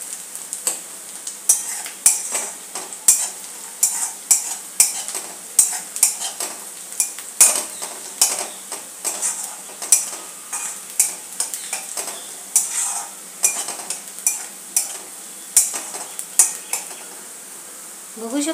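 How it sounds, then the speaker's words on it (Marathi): Onions sauté in a pan with a steady sizzle while a spoon scrapes and clinks against the metal in regular rhythmic strokes, close and continuous, with no one talking. "अशा प्रकारे आपण चांगला गुलाबी होईपर्यंत परतायचा आहे"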